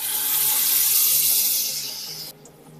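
Water streams from a tap into a pan holding masala paste for a raw banana curry, a loud steady splashing pour that cuts off sharply, leaving a quiet kitchen hum.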